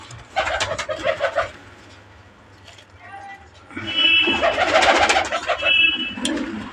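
Pigeons coo close by in a loft of show pigeons, with short throaty coos in two bursts while someone talks over them.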